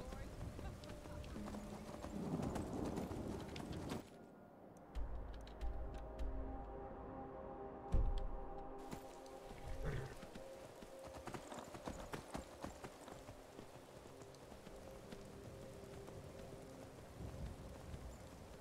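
Horse hooves clip-clop in a steady walking rhythm in rain in the Skyrim video game, faint over a hiss of background noise, while people talk over the sound.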